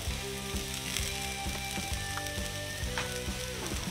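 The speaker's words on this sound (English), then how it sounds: "while the hash browns are cooking" Hash browns frying in a pan, giving a steady bright sizzle with crackling pops and faint scraping, continuous and close with no talk.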